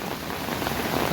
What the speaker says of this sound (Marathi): पाऊस भरपूर आधीपासून पडत आहे